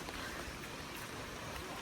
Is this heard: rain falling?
yes